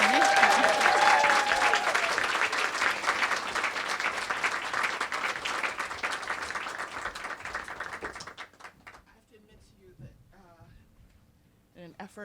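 An audience applauds warmly to welcome the author at a reading event, steady sustained clapping that fades out after several seconds, followed by quiet room sound and a voice beginning to talk.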